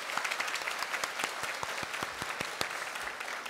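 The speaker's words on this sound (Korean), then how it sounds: "그 하나님께 감사의 박수 올립니다." A church congregation at a Sunday worship service claps together in thanks, a dense, even wash of many hands applauding steadily at close range for a few seconds.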